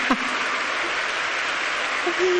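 A church congregation at a women's worship service applauds, steady dense clapping filling the space with no pauses, with brief faint voices at the start and end.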